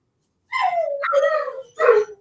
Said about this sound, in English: I hope my dog's not coming through. I can hear them. They're raising Cain right now for some reason.